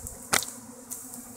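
Honeybee swarm clustered in a flower pot, heard as a soft steady buzzing hum with a couple of brief louder bursts as bees fly close by, no voices.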